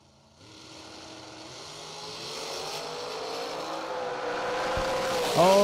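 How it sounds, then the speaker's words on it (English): A drag racing car launches and roars down the strip at a million-dollar drag race event, its engine pitch climbing steadily as it accelerates away, ending in a sharp burst. "TJ Pruitt, the drag coverage car in the right lane"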